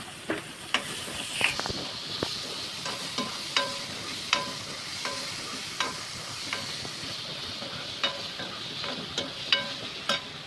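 Peas go into a tomato masala and sizzle steadily in a pan, with a spoon scraping and stirring in regular sharp clicks throughout, near and moderately quiet, no talking.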